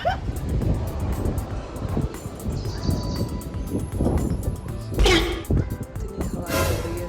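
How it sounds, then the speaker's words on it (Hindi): Strong wind gusts outdoors during a rainy day rush and roar against the microphone in uneven surges, with louder bursts of buffeting near the end and a voice talking over it. "इतनी हवा चल रही है, जोरों की हवा चल रही है।"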